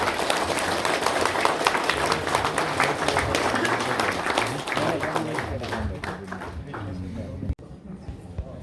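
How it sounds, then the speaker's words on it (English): A hall audience at a convocation and award ceremony applauds in a dense, sustained wash of clapping that continues steadily, then thins and fades toward the end, with a voice faintly under it. "I want everybody in the hall to give a huge round of applause."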